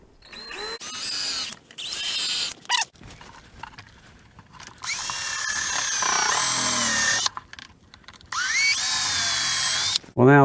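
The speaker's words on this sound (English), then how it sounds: "drill pilot holes for the screws" A power drill boring pilot holes for screws into a wooden cabinet door in a damaged Forest River Wildwood FSX 170 SS RV, with several loud whirring bursts that rise and fall in pitch, separated by brief pauses.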